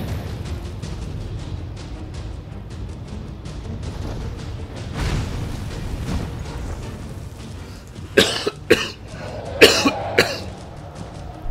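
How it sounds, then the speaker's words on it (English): Several sharp coughs near the end, loud and close, following quieter background sounds with a soft thump midway. "Once again, I apologize for the coughing."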